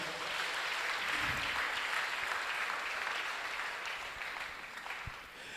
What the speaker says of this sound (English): Can we please give him a big round of applause?